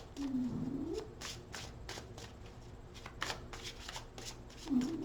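Tarot cards being shuffled up close in quick bursts of riffling and snapping, with a murmuring voice briefly underneath.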